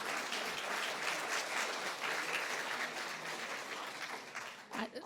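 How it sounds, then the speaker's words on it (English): Sustained applause and clapping from an audience at a talk, dense and steady throughout before thinning out near the end, with no talk over it. "You should clap for what she's saying right now."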